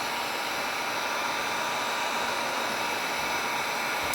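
A torch heats a metal piece with a continuous, even roaring hiss that stays close and steady throughout, with no talking.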